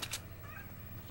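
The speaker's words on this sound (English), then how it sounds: "my cat's meowing at me" A house cat gives a short, faint meow from somewhere in the room, a single brief call over a low background hum with no talking.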